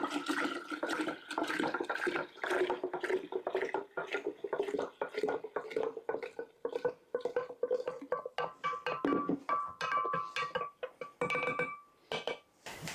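Filtered water pours into a gallon-sized glass jar of brewed tea for kombucha, a steady splashing trickle with occasional clinks, heard close and fairly quiet, with brief pauses near the end.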